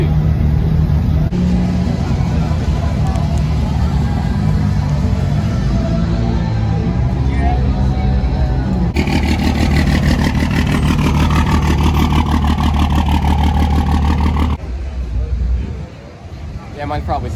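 A lifted dually truck engine idles with a low rumble, then revs up and holds a louder, rougher note before settling back down, with people talking over it throughout.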